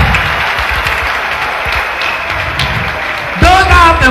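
Steady applause from a church congregation fills the clip, a dense wash of many hands clapping, with a voice rising over it near the end.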